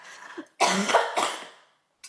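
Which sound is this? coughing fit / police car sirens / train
coughing fit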